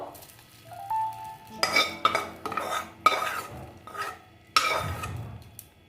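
Mustard seeds and chili being stirred in a pan with a metal utensil, giving repeated scraping clinks in an uneven rhythm and a faint sizzle underneath, close and fairly loud, with no voices.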